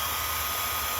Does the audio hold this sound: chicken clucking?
no